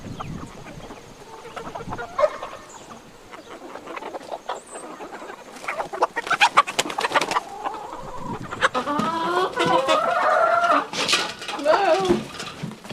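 A farmyard rooster clucks and crows repeatedly at close range, growing busier toward the end, with people talking in the background and faint clattering of dishes.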